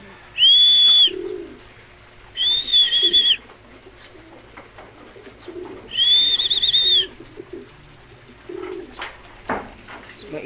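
Pigeons coo in a few separate bursts, fairly close, with a high whistle-like tone over quiet background noise.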